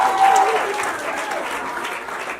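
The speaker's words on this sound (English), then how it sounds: "Another round of applause for" A crowd at an International Day of the Girl Child event claps steadily and loudly, dense applause filling the space and slowly easing off.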